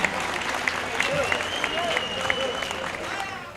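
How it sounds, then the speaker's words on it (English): Studio audience applauds an MMA fighter after a hard bout: steady clapping runs the full length at moderate volume, with cheering voices mixed in. "Everybody give him a round of applause as well."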